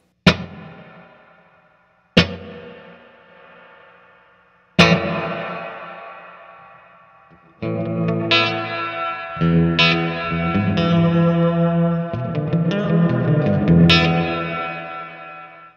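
Electric guitar through a Wampler Reflection reverb pedal with decay turned almost all the way up: notes struck one at a time, each ringing into a long, washy tail, then a denser run of notes swimming in heavy reverb.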